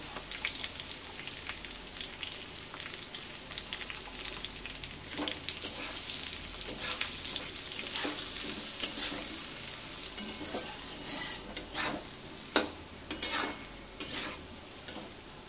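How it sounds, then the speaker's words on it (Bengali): Diced potatoes fry in oil in a pan for a green pea and potato curry, a soft continuous sizzle with scraping stirs and occasional clinks of a spatula against the pan. "আলুগুলোকে একটু ভালো করে একটু ভেজে নেব"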